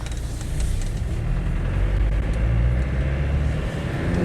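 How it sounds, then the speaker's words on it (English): A 1998 Land Rover Defender 110 County station wagon drives on the road, its engine and drivetrain giving a loud, heavy, steady low rumble heard from inside the cabin, with rising road noise and no talk. "Noisiest car I've ever driven"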